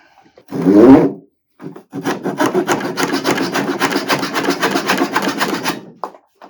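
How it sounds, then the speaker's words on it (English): A dovetail saw cuts wood with a steady run of close, even strokes lasting several seconds. A brief rasp comes before it and a short pause follows. "I'll use Mr. Cosman's dovetail saw for something it probably wasn't ever made to do."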